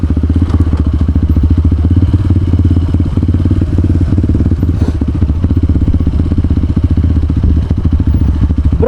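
A heavy motorcycle ridden over a rough dirt trail on a hill, its engine droning loud and continuous up close with rattling, clattering knocks and thumps from the bumpy ground.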